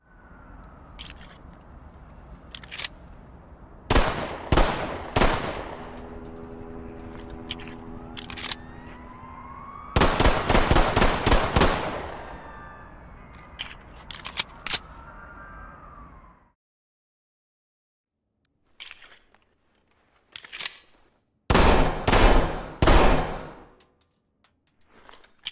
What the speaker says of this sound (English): Up next, we got the M45A1, which is probably like my favorite looking pistol